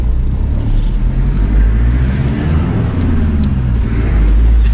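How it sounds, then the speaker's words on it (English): A big four-wheel drive truck's engine pulls hard while driving, a loud, deep, rumbling drone with rising revs, heard up close from inside with no talk. "Man's driving his big rig."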